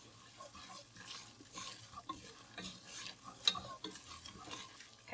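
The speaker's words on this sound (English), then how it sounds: "we're gonna add it's about 5 to 6 garlic cloves that I minced already. And whisk that in." Minced garlic, about five or six cloves, is whisked into a roux in a pan for a cheesy chicken Alfredo bake: a soft steady sizzle with repeated scraping whisk strokes, close and moderately quiet, with no talking.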